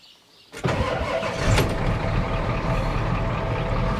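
A tired 1993 Ford F-250 XLT with a 7.3L IDI diesel starting after glow plugs. A brief crank is followed by an abrupt catch into a loud, clattering diesel idle that runs steady and near.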